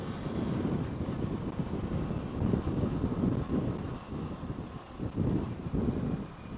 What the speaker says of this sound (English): it's getting a bit blowy